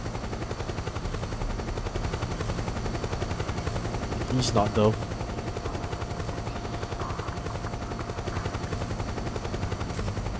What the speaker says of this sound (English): Chopper's very close.